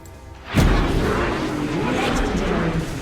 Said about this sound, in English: Your team has destroyed a turret.